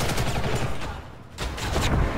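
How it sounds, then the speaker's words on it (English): Rapid, dense turret gunfire in the online shooter Ghost in the Shell: First Assault, a loud, continuous burst with a brief dip midway before the firing swells again. "There's a turret, Jeff."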